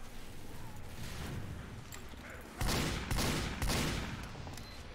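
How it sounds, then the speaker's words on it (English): Ambassador revolver shots from the spy in Team Fortress 2, a heavily modded balance version: three loud, sharp reports spaced about half a second apart, ringing out over a dense, noisy game background. "let's try spy with Ambassador and see how the faster firing speed is affecting it"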